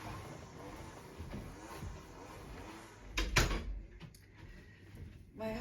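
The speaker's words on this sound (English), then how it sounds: "I have to close my door" A room door swung shut indoors, one firm close landing as a solid thump with a brief rattle, heard alone against a low background hum.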